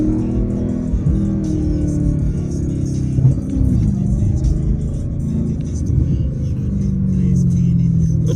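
A Dodge Hellcat's engine rumbles close behind on a city drive, a deep, steady low-pitched growl with occasional rattles, while people talk over it.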